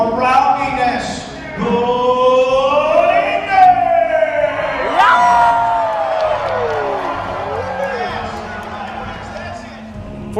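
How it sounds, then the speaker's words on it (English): A large crowd at a medieval dinner show cheers for knights, sustained shouting and whooping voices rising and falling close by, with a clear voice riding above the roar. "you have to cheer for your knight to win the battle"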